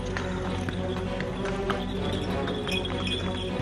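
A horse pulls a tanga along a street in a busy setting, its hooves clip-clopping in a steady trotting rhythm amid ambient traffic and crowd noise, moderately loud and continuous.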